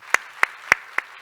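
Clapping in a church, a blessing for a newlywed couple: four sharp, evenly spaced claps, close and distinct, with quiet gaps between them.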